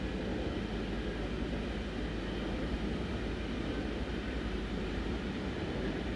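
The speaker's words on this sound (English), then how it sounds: "It might need the volume of the train reducing down a bit" A train in the Train Sim World 6 video game, on the Stuttgart to Heilbronn line, runs with a steady, loud rumbling drone and dense rolling noise, unbroken and without voices.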